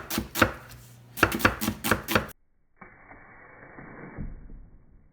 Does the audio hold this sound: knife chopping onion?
yes